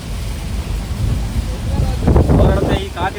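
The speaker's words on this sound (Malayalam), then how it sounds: "ഒരിടത്തെ ഈ കാറ്റ് കിട്ടത്തില്ല കേട്ടോ." Strong wind roars steadily past a truck cab during rainy weather in Kerala, with louder gusts swelling near the end and brief voices mixed into the buffeting.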